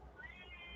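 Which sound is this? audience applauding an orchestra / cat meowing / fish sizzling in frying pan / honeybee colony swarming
cat meowing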